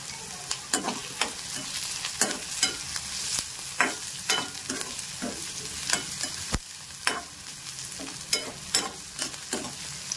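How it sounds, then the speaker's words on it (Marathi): Onion fries lightly in a pan for a raw mango chutney, a steady sizzle broken by repeated sharp scraping clicks of a spoon stirring, close and clear. "कांदा थोडंसं तळायचं आहे, जास्त नाही, त्याचं वास निघेपर्यंत"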